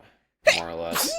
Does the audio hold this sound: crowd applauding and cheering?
no